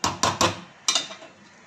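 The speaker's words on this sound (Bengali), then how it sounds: "ঢাকা দিয়ে দিলাম" A lid set onto a cooking pot during shukto preparation in a home kitchen: a few sharp metallic clanks in quick succession, then another pair of knocks, close and fairly loud with no talking.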